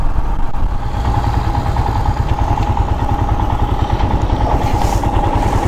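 A Royal Enfield Himalayan motorcycle cruises in fifth gear at about 60 km/h, its single-cylinder engine thumping in a steady, close, loud pulse with wind rush all around.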